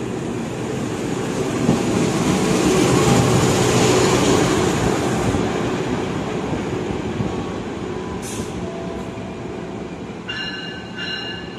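The Argo Parahyangan, hauled by a locomotive in Ketupat Ramadan livery, enters a station from the east on track 4 with a loud continuous rumble of wheels and engine, some high squeals near the end, and no talk.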